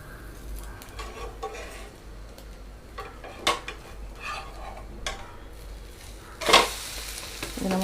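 An egg omelette fries in oil in a pan with a low, soft sizzle under scattered clinks and scrapes of a utensil against the pan, plus one louder clatter near the end.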